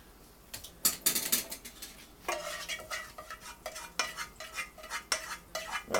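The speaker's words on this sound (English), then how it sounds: "I'm going to add the Alfredo back into the big pot" Thick Alfredo sauce going back into a big pot for fettuccine, with a run of close clinks, scrapes and stirring knocks of utensils against metal, some sharp and irregular.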